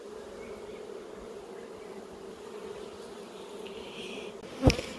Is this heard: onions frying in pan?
no